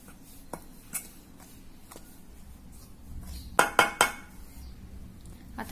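A spoon mixing hot oil into semolina in a dish, sparse scraping taps and then a quick cluster of bright metallic clinks against the dish, close and quiet otherwise.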